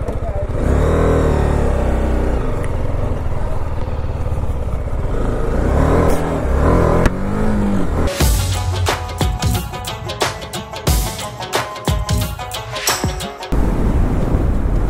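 BMW G310RR motorcycle riding on a highway, with steady engine drone and wind noise that shifts into revving and clattering bursts partway through, and a rider's voice faintly under it.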